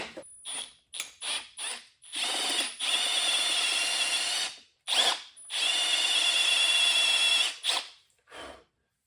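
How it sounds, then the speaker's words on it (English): A drill bores through the soft metal of a Willys CJ-2A Jeep engine block in short stuttering bursts, then two longer steady runs of close, buzzing, grinding whine. "That drill is just chugging through it."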